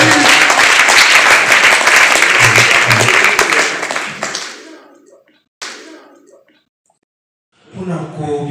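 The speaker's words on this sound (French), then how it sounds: "Sous nos applaudissements, bien évidemment." An audience at an awards ceremony claps loudly in a dense burst that tapers off over about four seconds into quiet, followed by a brief knock and a few faint sounds near the end.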